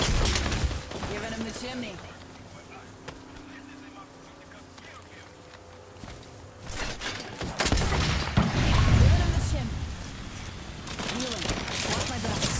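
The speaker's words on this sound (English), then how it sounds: "I'm taking fire." Gunfire in the battle game Apex Legends, with bursts of shots and booms rising in the second half over a busy game soundscape, while players talk over it.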